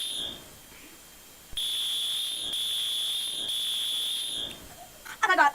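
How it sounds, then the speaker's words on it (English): A building fire alarm sounds as a loud, shrill electronic tone in long sustained bursts with short breaks, and people shout and talk near the end. "Slay that fire alarm."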